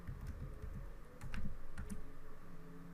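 Code is typed on a computer keyboard in a quick, uneven run of close, crisp key clicks that lasts about three seconds, with no talking.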